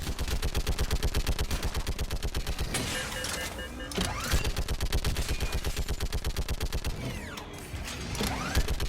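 Battle gunfire from the video game Mass Effect 3, with rapid, steady automatic fire hammering on and on, loud and close, and brief mechanical whirs and impacts breaking in.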